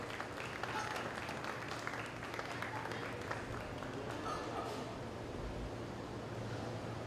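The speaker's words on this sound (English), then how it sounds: "Let's give all three of those exhibitors a round of applause." Faint, distant applause from a county fair swine show audience for the exhibitors, a soft continuous patter of many hands beneath a broad hiss of room noise throughout.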